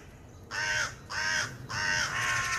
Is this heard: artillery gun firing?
no